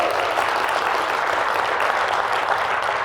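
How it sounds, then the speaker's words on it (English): Steady, dense applause from a seminar audience at a recruitment business talk, loud and close, many hands clapping continuously without a break. "Give yourself a round of applause."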